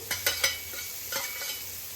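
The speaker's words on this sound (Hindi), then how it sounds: "अब हाई फ्लेम करते हुए प्याज और लहसुन को हमें बढ़िया सा भून लेना है।" Onion and garlic sizzle in a hot pan over high flame while a utensil stirs and scrapes them in a few quick strokes, close by and with no talking.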